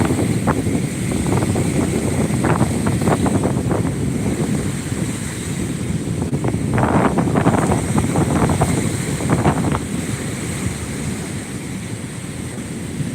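Breeze and waves by the Gulf ocean, a steady rush of wind buffeting the microphone over rolling surf, loud and continuous with no voices.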